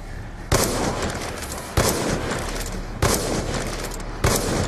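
Gunfire in Black Ops 2 Zombies on the Origins map: four heavy, booming shots land about every second and a quarter, each cutting through a constant loud wash of game noise.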